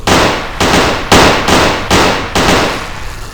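Gunfire in a VR rollercoaster shooting game: five loud, sharp bursts spaced about half a second apart, each a broad crack with a decaying tail, close and alone with no voices.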